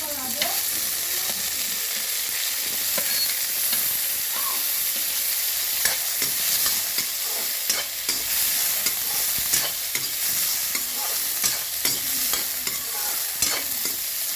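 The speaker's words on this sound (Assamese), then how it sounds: "পিঁয়াজটো গল্ডেন ব্ৰাউন হোৱাকৈ ভাজিম" Onions sizzle steadily in a hot pan, with intermittent scraping and stirring clatter throughout and no talking.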